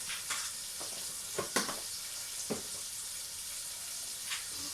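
Bay leaves, fennel seeds and cumin seeds fry in a pan for a courgette Indian curry, producing a steady bright sizzle with occasional stirring knocks, close and continuous with no talking.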